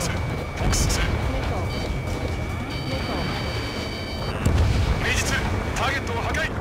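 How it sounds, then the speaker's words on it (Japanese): Missile launch and explosions in the Ace Combat 7 combat flight game, heavy booming blasts and rumbling engine roar layered with bursts of noise, under radio chatter in Japanese. "ミサイル発射"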